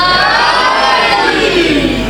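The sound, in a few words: audience at a religious gathering shouting a slogan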